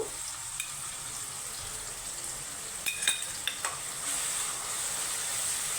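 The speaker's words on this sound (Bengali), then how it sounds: "পেঁয়াজ কুচি টমেটো এগুলোর সঙ্গে একটু ভাজা ভাজা করে নেব" Onion-garlic paste with chopped onion, tomato and turmeric frying in a pan for a Bengali bhetki fish curry, a steady close sizzle with a few light clinks of a spatula stirring.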